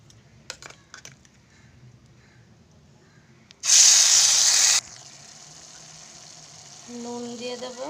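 A spice paste of coriander, cumin, green chilli and tomato hits a hot wok for Bengali fish curry, bursting into a loud sizzle that settles to a softer steady hiss, after quiet clicks and before a voice begins.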